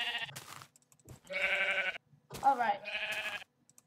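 A Minecraft sheep bleats three times in close succession, each bleat a wavering nasal cry, fairly quiet and separated by short silences, with a brief spoken word in between.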